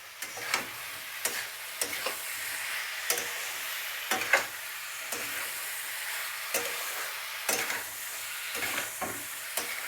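Boiled papaya pieces stirred into a pan of frying food, with a soft steady sizzle under repeated light ticks and scrapes of a spoon against the pan, close but quiet.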